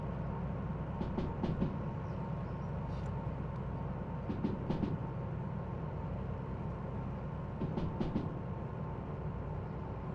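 Train hauling carriages in the Derail Valley simulator game, a steady rumbling roll with a few clusters of clacking wheel beats at intervals, heard without talk.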